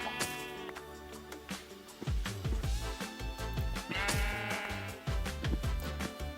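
Sheep bleating in the Minecraft video game, several short game bleats mixed with other blocky in-game sound effects and music, fairly loud and dense with no talk.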